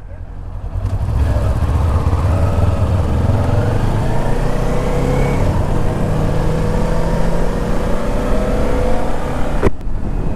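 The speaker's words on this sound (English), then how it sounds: "There's a roll on the throttle. You go wide open throttle and it accelerates good." A 2019 Kawasaki Ninja 400 motorcycle accelerates at wide open throttle, its engine note climbing steadily in pitch for several seconds under loud wind rush before cutting off abruptly near the end.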